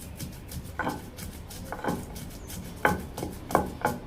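Several dull, irregular thuds of cumin and garlic being pounded in a mortar, a few close together, recorded close and fairly quiet.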